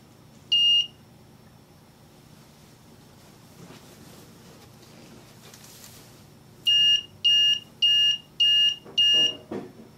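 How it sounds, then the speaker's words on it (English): An ultrasonic security circuit alarm gives one short, sharp electronic beep, then after a quiet pause sounds five more evenly spaced beeps in a row, loud and close against faint background hiss. "in order for the beeping to stop, I have to press stop"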